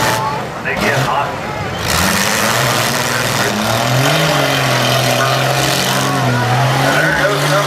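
Demolition derby cars at a Portage County, Ohio event, one engine revving hard with rising and falling pitch sweeps, loud and close, a commentator talking over the roar throughout.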